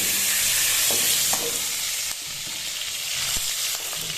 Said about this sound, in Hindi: पहले इसमें घी डाल देते हैं।